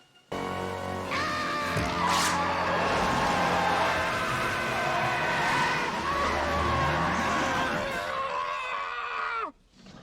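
A car brakes hard and skids in a scene from the film Planes, Trains and Automobiles, a loud, continuous tire screech that holds for about nine seconds and then cuts off abruptly, with a scream mixed in and little talk.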